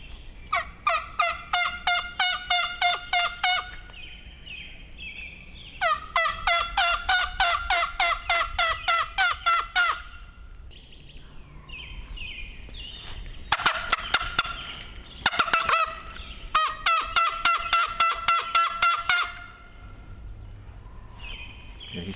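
Wild turkey gobbling repeatedly during spring scouting in Connecticut, several loud rattling gobble bursts in a row with short pauses between them, heard clearly outdoors with no voices over them.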